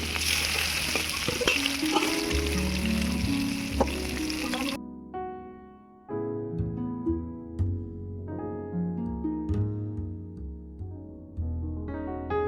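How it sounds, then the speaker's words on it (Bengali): Pieces of katla fish fry in hot oil with a loud, steady sizzle, broken by brief spatters and a clatter midway as more pieces go into the pan. No one speaks. "এবার আমি মাছগুলো ভেজে নেব।"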